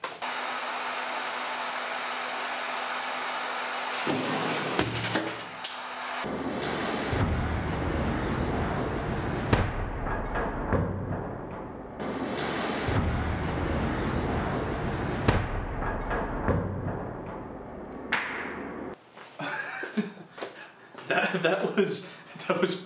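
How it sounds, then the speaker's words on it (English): A heat gun roars steadily as it heats a butane lighter set above a candle; the blowing noise cuts in and out several times, with a few sharp pops and clatters and some speech near the end. "whenever the heat gun makes the thing burst, it'll burst, all the butane will come down and hit the candle"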